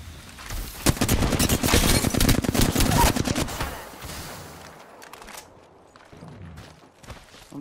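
Rapid automatic gunfire from an Apex Legends match crackles in dense bursts for about four seconds, then thins into scattered distant shots and quieter game ambience.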